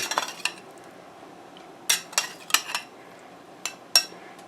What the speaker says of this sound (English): Give that a stir, make sure everything's coated good with your bourbon and oil.